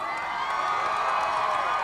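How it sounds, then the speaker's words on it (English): A live studio audience at a MuchMusic Intimate & Interactive rock show cheers and shouts in a dense, steady roar that holds at full level for the whole short stretch, with no clear voice on top. "How about a round of applause for True Love?"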